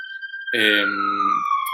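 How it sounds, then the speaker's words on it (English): An ambulance siren outside wails in a sustained rising and falling tone, close and loud, while a short burst of speech briefly overlaps it. "Sorry for the ambulance right now"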